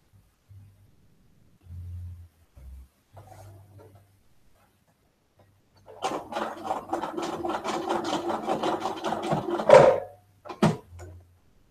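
A domestic sewing machine runs in a quiet room in a fast, even stitching burst of about four seconds, following scattered soft handling sounds, then stops with a couple of short clicks.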